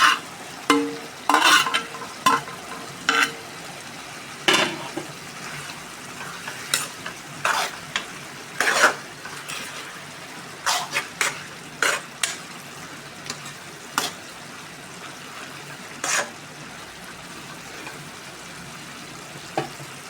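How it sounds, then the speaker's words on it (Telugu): Tomatoes frying with coriander and curry leaves are stirred in a pan for a dried red chilli chutney, with sharp scraping strokes at an irregular pace over a soft, constant sizzle and no speech. "ఇప్పుడు కొత్తిమీర కరేపాకు వేసుకుందాం"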